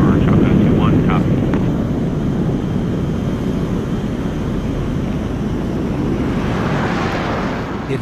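A military fighter jet climbs after takeoff from an air force base, a loud, broad engine roar with wind buffeting that swells and thins toward the end, beneath a voice in the clip.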